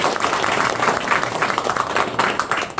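Audience at a loyalty card launch event applauding in a steady, dense wash of clapping that holds for a few seconds, loud and close.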